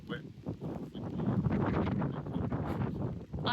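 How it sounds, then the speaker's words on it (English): Strong gusting wind on castle ramparts above the River Dart buffets the microphone in a steady roar, with a voice faintly underneath. "As you can see, it's very windy. It's a bit blowy."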